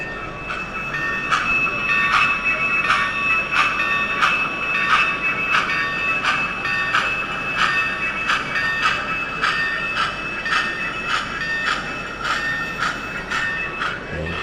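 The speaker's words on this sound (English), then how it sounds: "as this loco makes its way out, the gentleman was saying we should see the coal dust coming off the wagons" A model railway locomotive pulls coal wagons around a layout at a show, with a steady rolling rumble and regular clicking wheel beats repeating at close range.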